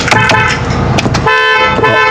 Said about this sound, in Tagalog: Busina ka, busina.